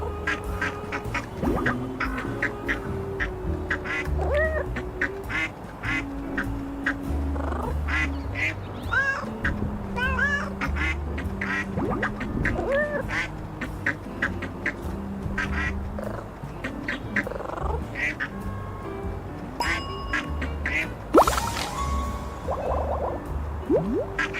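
Repeated quacking from a cartoonish duck in the game Little Kitty, Big City, loud and close, over a busy game soundtrack with chimes and effects.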